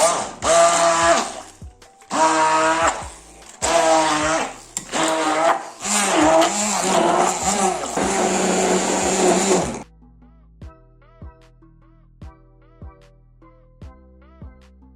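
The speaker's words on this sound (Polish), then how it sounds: "mocny blender i na najwyższych obrotach miksujemy owoce" Several loud bursts of a blender running at high speed mixing fruit, each lasting a second or two, with short pauses between them, followed by quieter clicks and taps.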